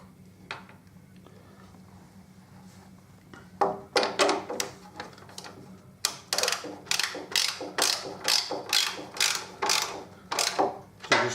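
Bolts on a Suzuki DL1000 V-Strom are nipped up with a ratchet, a run of sharp rapid clicking bursts repeated at a steady rhythm, close and crisp over a quiet background.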